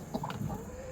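A hen with a chick tucked beneath her gives a few soft, brief clucks close by over a steady background hiss.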